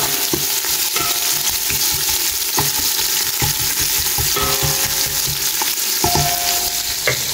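Onions fry with garam masala in a pan, a steady close sizzle broken by a few stirring scrapes and clinks, with no one speaking.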